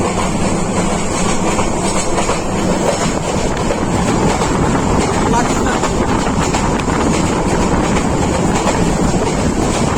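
The Sonar Bangla Express intercity train from Dhaka to Chittagong runs at speed, hauled by locomotive 2236, producing a loud, continuous rumble and rattle of wagons with wind buffeting, while a voice speaks briefly.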